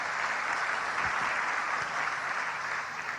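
A church congregation applauds warmly during a sermon, a dense, steady wash of clapping from many hands that holds at an even level throughout.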